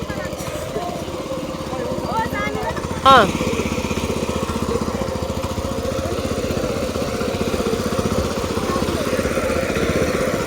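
The engine of a digging machine runs in a village field in Sikkim with a loud, close, rapid chugging that holds steady throughout, briefly surging near the start, while people talk nearby.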